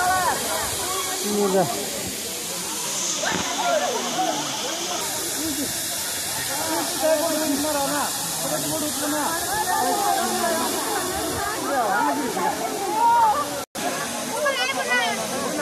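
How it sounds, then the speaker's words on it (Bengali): Waterfall at the Ukiam picnic spot in Meghalaya roars as a steady, loud broadband rush throughout, while people talk and exclaim close by over it. "কিরম লাগছে ঝর্ণাটা?"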